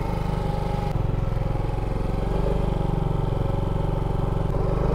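A Suzuki Smash 115R motorcycle engine drones steadily while riding on a long road trip, a loud, continuous low mechanical hum with a brief dip about a second in.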